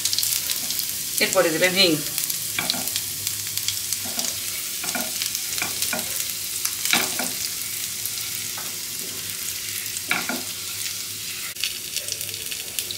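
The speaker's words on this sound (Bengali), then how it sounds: "একটু ভালো করে ভেজে নেব।" Spices sizzle and fry in a pan while kachori filling is cooked, with a soft steady hiss and occasional stirring scrapes, as someone speaks briefly over it.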